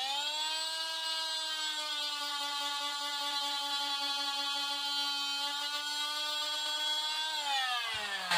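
A power tool whines steadily while cutting a rustic wooden spice holder, a close, high-pitched continuous buzz that holds level for several seconds before dropping away and cutting off.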